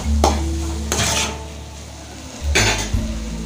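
Onions being sautéed with chili powder in a pan for an egg podimas, with a spoon stirring and scraping against the pan in a few bursts over a soft background sizzle.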